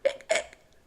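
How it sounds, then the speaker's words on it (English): Two short hiccups sound close together, each a sharp voiced gulp about a quarter second apart, then a faint third catch. They are quiet and close, with no talk. "The hiccups stayed."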